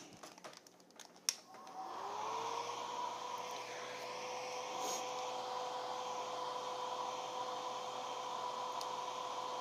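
A hair dryer drying watercolor paint switches on at low strength after a brief clatter and runs steadily with a continuous whooshing hum and a faint whine.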